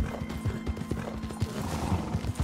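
Horse hooves clip-clop in a steady, rhythmic gallop in Red Dead Redemption 2, close and moderately loud, with a continuous low rumble beneath the repeating hoofbeats.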